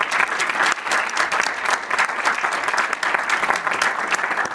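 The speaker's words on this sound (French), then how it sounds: "merci beaucoup Benoît, vous pouvez l'applaudir" An audience at a talk on the politics of the commons claps after a speaker, steady, dense applause continuing throughout at a consistent loud level.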